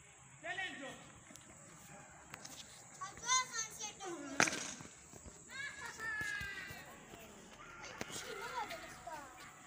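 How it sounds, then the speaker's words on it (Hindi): Boys playing outdoors nearby, with several children's voices calling and chattering in bursts throughout, close to moderately near, over light background noise. "लड़के खेल रहे हैं, तो ये उनकी ही आवाज़ें शायद आपको सुनाई दे रही हो।"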